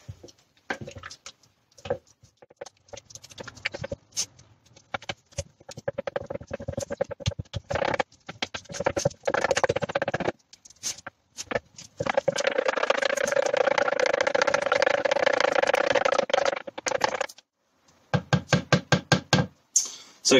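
Raptor bed liner being stirred with colour tint in a jug, heard as fast, rhythmic knocking and scraping in dense bursts with short pauses between them, close and fairly loud.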